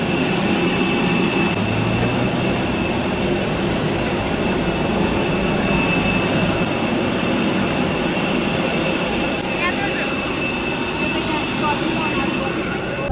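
Jet engines roar steadily from inside a passenger airplane cabin, a loud, constant broadband drone with people chatting faintly underneath.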